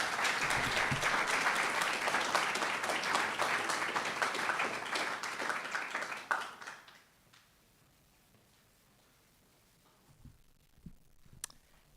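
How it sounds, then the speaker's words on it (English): An audience at a talk on austerity applauds to welcome a speaker, steady moderately distant clapping that fades out after about six seconds, followed by near silence with a few faint thumps and clicks. "let's give Gabriella a big round of applause and welcome"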